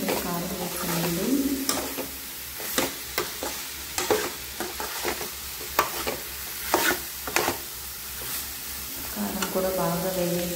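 Chili powder fries in oil with broad beans, sending up a loud, dense sizzle that runs throughout, punctuated by repeated close scraping stirs and clinks of a spoon against the pan, with faint tonal hums at both ends.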